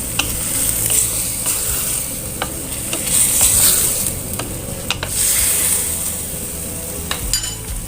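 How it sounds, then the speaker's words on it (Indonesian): Long beans and other sayur lodeh vegetables are stirred in a sizzling pan, with steady frying hiss and repeated scrapes and clinks of the utensil against the pan, close and without talk. "Aduk semuanya menjadi satu"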